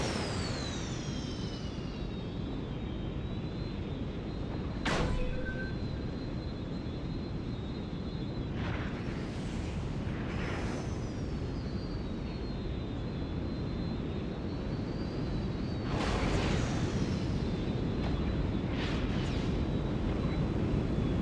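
Enemy ships blasted out of the sky in the video game LEGO Star Wars: The Skywalker Saga, a steady roar of engines and explosions with sharp laser-like zaps and bursts around five, ten, sixteen and nineteen seconds.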